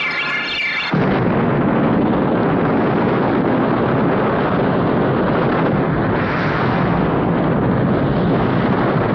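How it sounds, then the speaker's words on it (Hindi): A dynamite-filled pipe goes off in a film scene with a sudden loud blast, followed by a sustained, close, roaring rumble that lasts for about eight seconds. "हमारा वो पाइप डायनामाइट से भरा हुआ था।"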